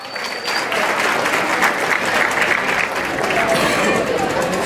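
A crowd at a night bull-riding tournament bursts into loud, sustained applause and cheering that holds steady throughout, dense and close, with voices mixed into the clapping.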